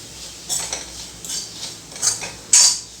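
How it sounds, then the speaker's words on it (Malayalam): Spoon stirring chili powder into Kerala gooseberry (amla) pickle in a pan, a few sharp metallic clinks and scrapes spaced about half a second apart, close and clear with no talk. "ഞാൻ 2 സ്പൂൺ മുളക് പൊടി ചേർത്ത് കൊടുക്കുന്നുണ്ട്. ഇതൊന്ന് മിക്സ് ചെയ്ത് കൊടുക്കാം."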